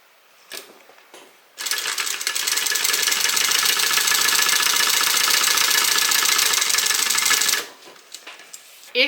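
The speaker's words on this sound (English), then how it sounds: "we're going to top stitch" A sewing machine top stitches a fabric hip bag, running in a steady, continuous mechanical whir for about six seconds before stopping, with light handling clicks before and after.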